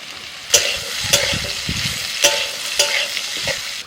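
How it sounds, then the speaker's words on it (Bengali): Potatoes fry in hot oil over a spice tempering while a spatula scrapes them around the pan. Loud scraping strokes land about once a second over a constant close sizzle. "আলুটা একটু নাড়াচাড়া করে নিয়ে পেঁয়াজ কুচুনো দিচ্ছি"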